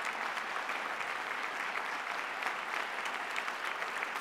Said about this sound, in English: stand up and give them a round of applause wherever they are.